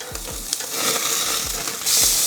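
Steak sears on a Weber Q 2800N grill with a steady sizzle, punctuated by a few soft low thumps, and the hiss swells louder near the end.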